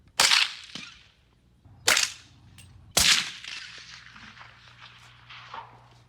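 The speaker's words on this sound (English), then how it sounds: "So I was able to take my handheld recorder out there and record the guns." Several sharp gunshots fired outdoors and captured on a handheld recorder: three loud reports spaced a second or so apart, each followed by a short echoing tail, then a faint trailing rumble.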